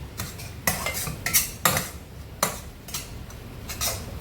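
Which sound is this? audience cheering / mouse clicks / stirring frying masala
stirring frying masala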